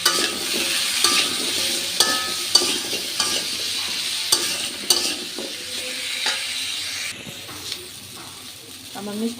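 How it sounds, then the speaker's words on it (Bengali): Sweet gourd sautéing in a pan with turmeric and chili powder for an egg curry, a close hissing sizzle with repeated stirring and scraping strokes, loud and irregular. "আমার মিষ্টি লাউ কষানো হয়ে গেছে,"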